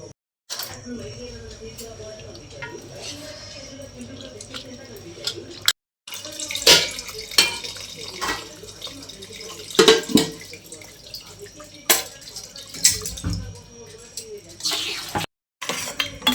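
Tamarind juice is poured into a pot of mutton paya curry, giving wet splashing, drips and occasional clinks of a vessel, close and uneven over several seconds, with a voice talking at times.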